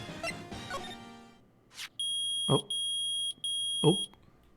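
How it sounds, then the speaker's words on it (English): Metal detector in the Phoenix Wright: Ace Attorney video game emits a loud, steady electronic beep in three sustained pulses, each topped by a short blip, following a brief stretch of game music and chatter. "It's beeping. The metal detector just found something."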